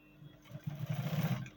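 A sewing machine runs a short, quiet burst of straight stitching on cargo pants fabric, the motor hum building slightly as it goes.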